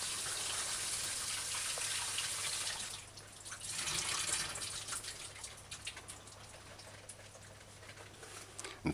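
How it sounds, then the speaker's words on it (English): Fresh tap water running as vegetables are rinsed, a continuous hiss of flowing water that dips briefly and then turns into splashier, uneven trickling nearby. "give it a final rinse on the fresh running water"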